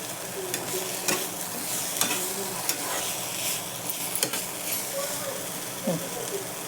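Dried fish (sukat) stir-fried with ground masala, a strong continuous sizzle broken by regular scraping stirs and clicks of a spatula, with a brief murmur of voice near the end.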